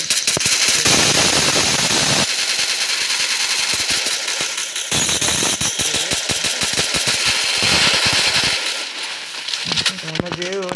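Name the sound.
gunfire in Free Fire Max video game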